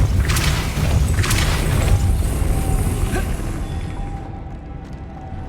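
A Depulso spell blast goes off in a Harry Potter video game, a loud booming burst over a dense rumbling game soundtrack, with a couple of sharp cracks early and a slow fading tail.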